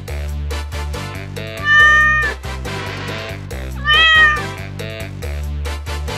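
A cat gives two loud, drawn-out meows over background music, one after the other with a pause between them.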